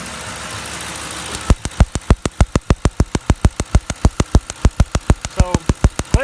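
A Ford Crown Victoria engine runs with a misfire from a leaking ignition coil boot; after a quiet moment, sharp, loud, evenly spaced snapping pulses start and repeat rapidly for several seconds, with no speech.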